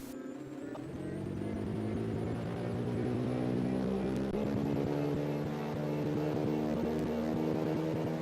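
A propeller airplane drones steadily in a video game, its engine hum rising slightly in pitch and holding close and continuous for several seconds.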